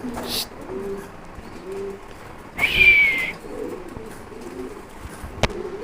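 Pigeons coo nearby in low, rolling calls, with one brief louder bird call midway and a sharp click near the end.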